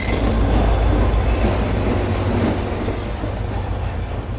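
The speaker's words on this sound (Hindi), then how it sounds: "ये देख सकते हैं आप, ट्रेन प्लेटफार्म की तरफ बढ़ रही है" The Rahman Baba Express rolls into a station platform with loud rumbling wheels, high metallic squeals and a low continuous roar, heard close and steady throughout.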